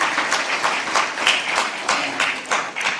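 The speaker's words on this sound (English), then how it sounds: "Let's give applause to IBN for this thing." Applause from the audience at an investment summit in Nepal, with irregular claps rising and falling in clustered bursts and no voices over it.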